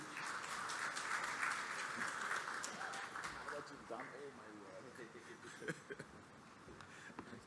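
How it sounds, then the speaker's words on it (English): Audience applause welcoming a speaker at a symposium, a faint, distant wash of clapping that fades as a voice begins talking over it. "please give him a warm round of applause."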